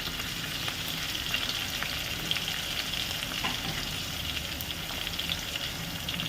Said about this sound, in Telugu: ఇది కొద్దిగా గోల్డెన్ బ్రౌన్ కలర్ వచ్చేలాగా ఫ్రై చేసుకున్నాం